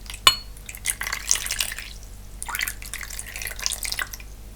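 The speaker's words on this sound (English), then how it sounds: "So with a manicure, there's some nice water." Water splashes and drips in a manicure soaking bowl, with a sharp first splash followed by scattered close trickling and dripping sounds over a quiet, steady low hum.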